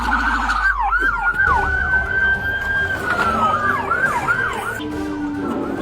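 A stolen ambulance's siren wails during a police chase on the road, first in quick warbling sweeps, then in a long steady tone, then in fast yelps again, loud and close over traffic rumble.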